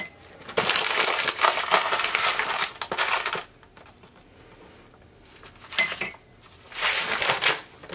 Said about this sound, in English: going to add 2 tablespoons of rice